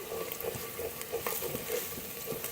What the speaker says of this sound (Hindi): प्याज लहसुन अदरक का पेस्ट हमारा अच्छे से फ्राई हो चुका हुआ है